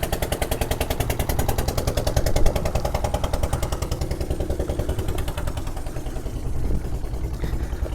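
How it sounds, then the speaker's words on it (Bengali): A fishing boat's engine chugs steadily at close range on a river in the Sundarbans, a loud and rapid putt-putt pulse that keeps a constant rhythm and then eases slightly as it passes. "এই যে নৌকা যাচ্ছে তারা মাছ ধরতে।"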